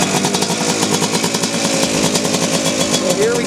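Kawasaki Tecate 4 three-wheeler engine running close by, a loud rapid rasping two-stroke putter that rises a little at the end, with voices under it.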